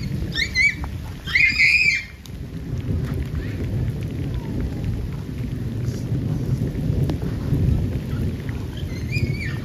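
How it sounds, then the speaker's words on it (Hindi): Heavy rain pours steadily in a village in Punjab with a dense, constant hiss, and a few brief higher sounds stand out early on. "बारिश तेज हो गई है।"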